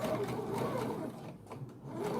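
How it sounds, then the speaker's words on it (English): A sewing machine stitches around a hole in fabric during a repair, running in steady faint bursts with a brief pause midway before resuming. "I'm just going to stitch, like, around the hole"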